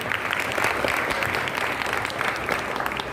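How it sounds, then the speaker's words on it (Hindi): Audience applause at an honour ceremony held at a temple, a steady, dense wave of clapping from a crowd that fills the whole moment without pause, fairly loud and close. "एक बार जोरदार तालियां।"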